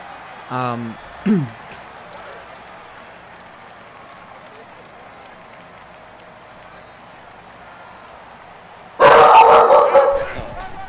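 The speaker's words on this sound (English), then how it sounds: "That's a full-grown dog." A dog barks twice, loud and close, in short sharp bursts near the start, then a low background hum continues before a loud crowd-like burst of noise near the end.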